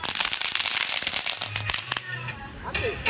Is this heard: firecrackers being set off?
yes